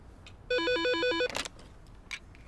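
A telephone rings once in a Hindi comedy film with an electronic warbling ringtone, loud and close, followed by brief rustling noises.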